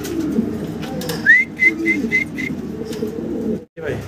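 Carrier homer pigeons coo close by amid low background murmuring, with a short rising whistle and a few repeated chirps.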